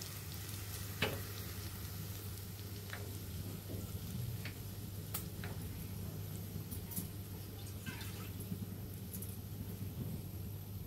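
Sugar tipped into hot ghee in a pan while making raw papaya zarda, a sweet rice dish: a steady, soft sizzle and crackle with a few faint ticks and clinks, no voices.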